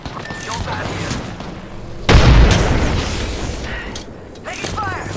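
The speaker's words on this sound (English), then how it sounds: "Grenade out!" Grenade explosion in the Apex Legends video game, a loud booming blast midway through amid game effects and gunfire, with voices talking throughout.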